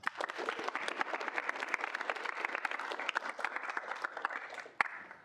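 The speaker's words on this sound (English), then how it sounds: "If we could get a round of applause for them" An audience at a student senate meeting applauds steadily for about five seconds, a dense patter of claps at moderate volume that thins slightly near the end with one sharper clap.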